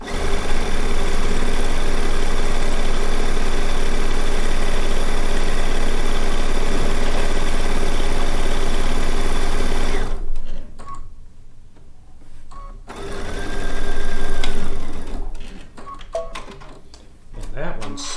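A sewing machine stitches a quilt round, running steadily and loudly for about ten seconds before stopping, followed by quieter handling sounds and a voice.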